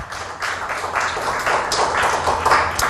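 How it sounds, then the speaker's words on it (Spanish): A church congregation claps during a Spanish-language sermon, producing a dense, steady wash of many hands that holds at an even level for about three seconds. "Denle un aplauso fuerte a nuestro Salvador Jesucristo."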